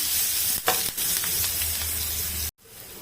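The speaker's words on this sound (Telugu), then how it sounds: "ఆనియన్ చిన్న చిన్న ముక్కలు హాఫ్ స్పూన్ పసుపు కొంచెం ఫ్రై అవ్వాలి ఇది కూడా" Small chopped onion pieces fry with turmeric in a pan, giving a continuous close sizzle with a couple of stirring scrapes, then cutting out abruptly near the end before resuming.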